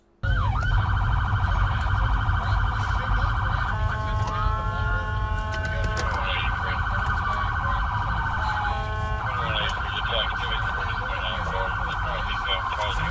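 Loud police car siren wailing and yelping continuously up close during a traffic stop chase, switching between tones, with engine noise underneath.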